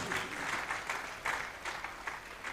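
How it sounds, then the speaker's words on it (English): An audience at an Ondo State tertiary institutions colloquium in Nigeria applauds, steady clapping from a crowd heard at moderate distance and continuing throughout. "Let's applaud them as they resume their seat."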